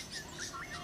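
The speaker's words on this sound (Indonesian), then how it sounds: "burung serigunting kalau yang ada di bawah itu, di bawah lembah" A drongo calling from a mountain valley below a campsite, a series of bright chirps and sweeping whistled notes rising and falling, moderately distant over faint ambient hiss.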